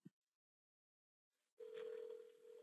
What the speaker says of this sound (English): So you can kind of hear it ringing back there in the background.